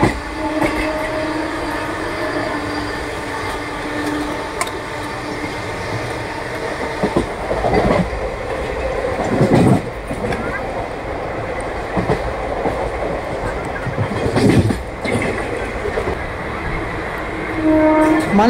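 Rumbling, clattering onboard train noise from the 17208 MTM–SNSL weekly Express running past Moulali railway station near Secunderabad, a steady loud roar with several sharper clanks and rattles, no talk.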